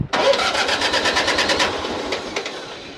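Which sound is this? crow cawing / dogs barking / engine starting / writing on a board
engine starting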